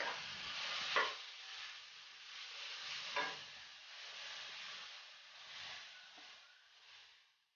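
Shredded cabbage tossed into a hot pan with sauce for veg momos filling, giving a soft continuous sizzle with a few scraping stirs of the spoon, fairly quiet and with no talking.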